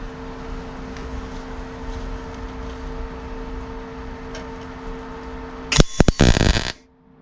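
MIG spot welding on a repair panel for a Rover P6 inner wing: a steady low hum runs under quiet workshop noise, then a short loud crackling burst of welding arc lasting about a second before cutting off.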